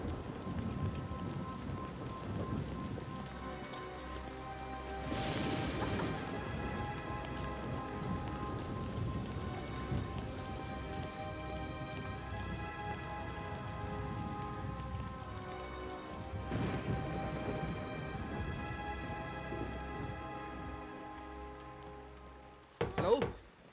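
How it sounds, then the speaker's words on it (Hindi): Heavy rain pouring steadily in a dubbed horror film scene: a dense, continuous hiss of downpour with low rumbles like distant thunder, loud throughout, ending with a few sharp knocks. "जल्दी चलो, बारिश बहुत तेज हो रही है।"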